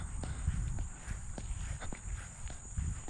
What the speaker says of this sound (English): Wearing flip-flops right now. I don't know if you guys can hear that.